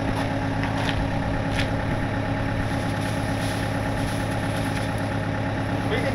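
A skid steer engine idles in a steady, loud, unbroken drone with a low rumbling throb, close by and constant throughout.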